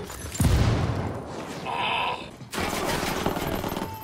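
Mortar fire and explosions in the video game Ghost Recon Wildlands come as loud, dense booming blasts with a brief lull in the middle, followed by continued rumbling gunfire.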